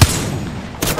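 A loud shot or short burst of gunfire in a video game shootout, opening sharply and then trailing into a rumbling tail before a second brighter crack near the end.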